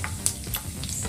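A bay leaf and fennel seeds hit hot oil for tempering in a home kitchen, giving a steady close sizzle with a few sharp crackles and pops.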